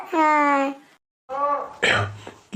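Cartoon grandfather character hoarse from a lingering cough: two stretches of strained, voiced throat sound, then a harsh, rough cough burst, close and fairly loud.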